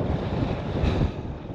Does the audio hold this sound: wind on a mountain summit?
yes